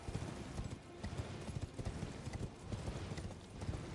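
Horse hooves clip-clop steadily in Elden Ring as the mount trots along, a quick even rhythm of close, dense hoofbeats with game ambience underneath.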